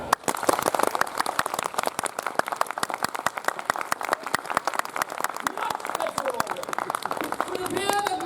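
Renaissance faire audience clapping in unison on cue at a Queen's Court show, a dense and steady run of sharp hand claps heard close and lasting throughout.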